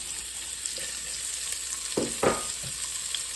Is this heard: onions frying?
yes